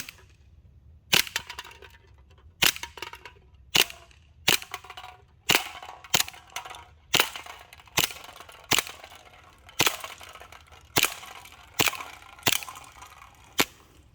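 A Glock 19 Gen 5 CO2 blowback BB pistol in .177 fires about fifteen sharp, snappy cracks at a steady, unhurried pace, close and clear with no talk.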